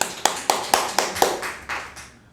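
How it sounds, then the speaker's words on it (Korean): Applause of praise to God in a church service during a Sunday sermon, heard as a steady rhythm of about eight sharp, evenly spaced claps close by, softening toward the end. "우리 하나님께 영광의 박수 올립니다"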